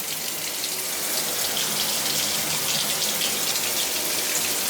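Water sprays steadily from a rainfall showerhead with a wand during installation, a dense, even hiss of falling droplets that stays loud and unbroken throughout, with no talking.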